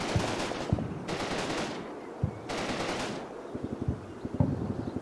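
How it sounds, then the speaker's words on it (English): Machine gun fire from American troops returning fire at a bunker in a WWII wargame video game, heard as two sustained bursts of rapid automatic firing with scattered single shots and windy noise between. "the other sound is the American machine guns returning fire at the bunker"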